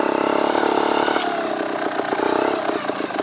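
Trials motorcycle engine revving with sharp double blips of the throttle, loud and close, a steady mid-pitched drone broken by quick bursts, with no talk over it.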